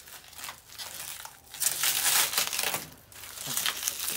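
Sticky plastic wrap peeled off a new Toro 824 snowblower, loud close crinkling and tearing in long bursts with brief pauses between pulls.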